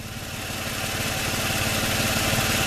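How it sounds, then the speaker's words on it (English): A car engine idles steadily during diagnosis of an AW55 automatic transmission, a continuous mid-pitched drone with a steady pulse, close and fairly loud, with no voices. "And just pay attention to the idle."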